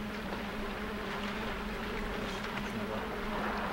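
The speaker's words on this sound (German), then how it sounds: "Mit den surrenden Bienen hier im Wasser." Bees buzzing over water in the video game Limbo: a steady, droning hum that stays even and moderately quiet throughout, with no voices over it.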